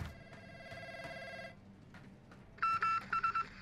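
In the video game Warzone, a telephone rings with a bright electronic trill, then goes quiet and rings again in short bursts, fairly near and clear.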